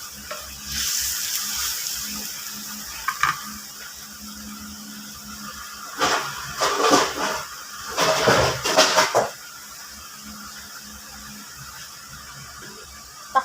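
Hot water poured into a pot of thinly sliced pork for adobo with vegetables: a sizzling hiss bursts out in two loud stretches, followed by quieter bubbling and a clank of cookware.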